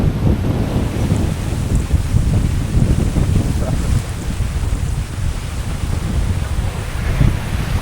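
Rough, wind-whipped water on a boat trip in heavy weather, with a steady loud roar of wind buffeting the microphone over churning waves and spray, continuous throughout with no talking.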